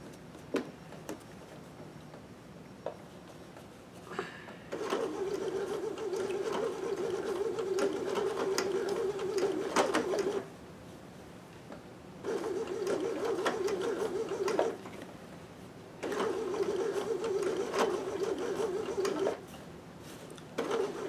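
Sewing machine stitching fabric with a circular stitch attachment, running in three sustained bursts of steady whirring stitches separated by short pauses, close and fairly loud with no voices.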